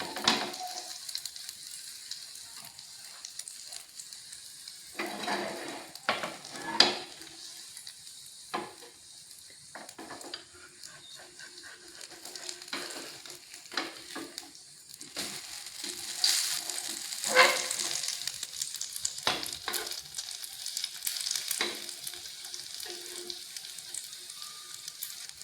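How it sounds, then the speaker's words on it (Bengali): A Mughlai paratha sizzles in oil on medium heat, a soft continuous crackle and hiss with scattered pops and occasional scrapes of a utensil, swelling louder toward the end. "মিডিয়াম আঁচে পরোটাটাকে ভেজে নেব।"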